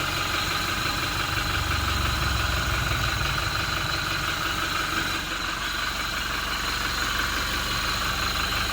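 A Toyota Innova Reborn 2021 diesel automatic idles steadily, heard from underneath near the right wheel, a continuous low rumble with a faint knocking texture and no talking.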